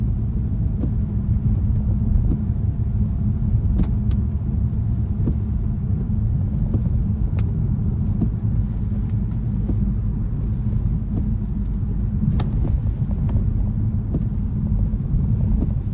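A car travels along a road in a steady low rumble of engine and tyres, with wind buffeting the microphone and small knocks here and there.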